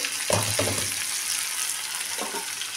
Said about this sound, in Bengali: আলুগুলো দিয়ে ভাজা করব।